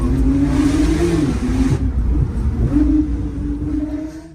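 A car accelerates hard with a deep, rising engine roar under overboost, the note climbing through a gear change and then pulling again, loud and close.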